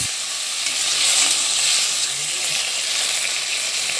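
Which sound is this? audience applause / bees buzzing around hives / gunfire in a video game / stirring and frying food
stirring and frying food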